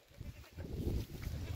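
Goats bleat at a rural milking scene among cattle and dogs, with soft, wavering calls mixed into a low, busy background of farmyard noise.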